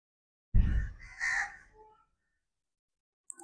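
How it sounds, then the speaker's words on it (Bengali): Crows cawing outdoors near eggs set out to fry in the sun: one harsh, close caw followed by a second drawn-out call that fades, then silence with a tiny click at the end. "এই কাকগুলো আমার ডিস্টার্ব করে, এই ডিম খেয়ে ফেলাচ্ছে।"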